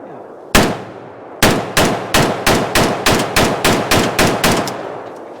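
A Polish AK sporter rifle firing: one sharp, loud report, a pause, then a rapid string of about a dozen cracks in an uneven rhythm. Each shot rings briefly before the next, close and alone.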